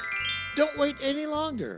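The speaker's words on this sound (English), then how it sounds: "Hey, that's my doorbell." A three-note chiming doorbell rings, with a voice talking over it.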